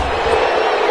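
A football stadium crowd roars and cheers loudly ahead of a big third down in a Bears game, a dense, sustained wall of voices filling the whole moment.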